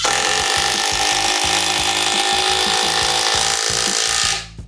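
A power tool turns a spline drive socket on a bolt with rounded-over corners, a loud, continuous grinding whir with a rapid ratcheting chatter underneath that stops abruptly at the end.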